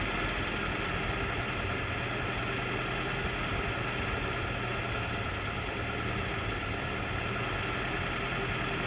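An M38A1 jeep engine idles with the choke off, a steady mid-pitched rumble with a continuous drone that holds nearly level throughout, close and loud with no voices.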